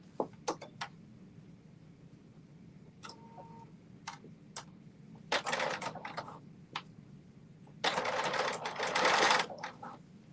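A sewing machine stitches down fabric on a Simplicity 8424 garment, running in two loud sustained bursts after scattered sharp ticks and clicks, close up with no talking.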